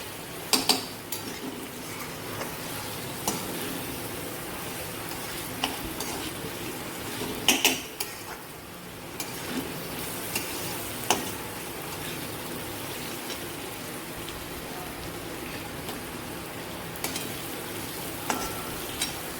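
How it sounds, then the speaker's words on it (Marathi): Soaked moong dal sautéed in a hot pan with vegetables, a steady sizzling fry running throughout with scattered scrapes and clinks of a spoon stirring against the pan, close and without speech. "आता यामध्ये ही डाळ पण चांगली परतून घेते"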